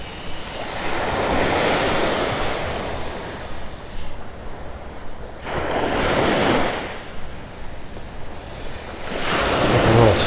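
Waves surge and wash ashore in three broad swells at Vanderbilt Beach, Florida, on a bright day a year after Hurricane Ian, with steady wind noise buffeting the microphone between the breakers.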